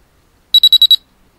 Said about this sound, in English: The constant pitch sound means that in the previous 3 seconds there has been no change in the average level of your relaxation.